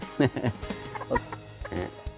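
A hen clucks in repeated short bursts close by, a farmyard chicken calling along with the flock, with some background voice mixed in.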